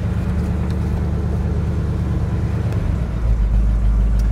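A 1973 International Loadstar 1700 truck engine idles cold, a loud, steady low rumble that deepens slightly near the end, with no talk.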